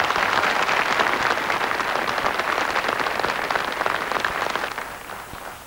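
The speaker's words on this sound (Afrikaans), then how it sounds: "Kom ons gee hulle 'n applous." Audience applause at a boereorkes band competition, a dense, sustained wash of many hands clapping that stays loud throughout and begins to thin toward the end.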